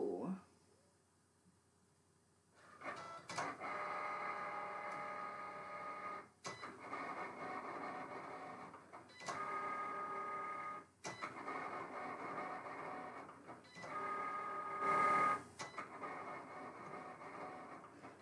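A Cricut cutting machine runs an embossing job, a steady mechanical whir broken by short pauses and clicks as the carriage moves, fairly quiet and close with no talk.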